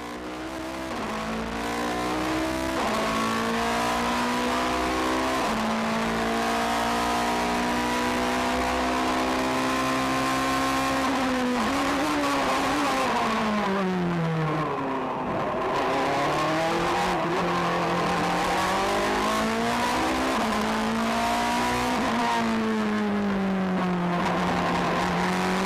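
A Toyota Supra GT500 race car engine roars steadily around a track, revving up and down through gear changes, with no voices.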